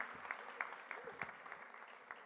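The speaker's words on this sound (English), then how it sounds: "Let's give ourselves a round of applause." Audience applause at a university international relations inaugural lecture, a thin, fairly quiet patter of scattered claps lasting a couple of seconds.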